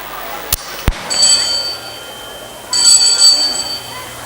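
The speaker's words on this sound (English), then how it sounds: "The bell invites me." A bell rings in a school stage production of Macbeth, two short bright tolls with ringing overtones, a sharp click before them, fairly loud over a quiet hall with faint background noise.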